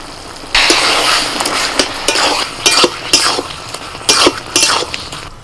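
Metal spoon scraping and knocking around a pan while Gobindobhog rice paste is stirred into bottle gourd and shrimp curry, a run of close, clattering strokes in uneven bursts with brief pauses between.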